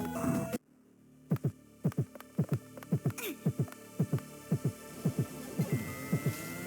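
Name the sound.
heartbeat sound at low health in video game Scurge: Hive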